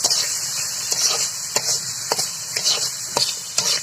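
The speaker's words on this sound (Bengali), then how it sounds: "জিরাটা একটু ভেজে নিলাম, সব কিছু একেবারে নাড়াচাড়া করে দিচ্ছি।" Cumin, turmeric and salt fry in a hot pan while a spoon stirs them, giving a bright continuous sizzle broken by rhythmic scraping strokes about twice a second, close and alone.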